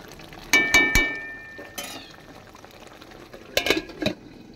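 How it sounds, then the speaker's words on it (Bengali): A spoon stirring fish curry (pabda in mustard gravy) with fresh coriander leaves in a pan, heard as a few distinct scraping and clinking strokes with a soft simmer underneath, near and moderately loud, no talk. "ধনেপাতাটা দিয়ে একবার ভালো মতন আমি নেড়ে দেব।"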